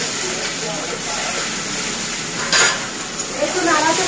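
Spatula stirring chopped onion, ginger and green chilli with mustard seeds frying in a pan, a steady soft sizzle with scraping and a brief louder clatter midway.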